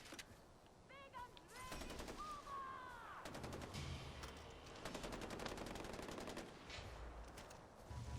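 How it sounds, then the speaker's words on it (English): In Far Cry 4, characters fire into the air in rapid automatic bursts that rattle on and off throughout, with pitched chirps or calls early and someone speaking underneath. "And they shooting up in the air."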